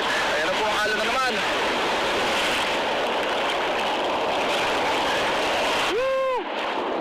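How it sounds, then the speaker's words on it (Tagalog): Loud, steady roar of ocean surf pounding the shore at Ruby Beach on Washington's Olympic Peninsula, continuous and close, with a brief whoop-like voice near the end. "Laki ng alon."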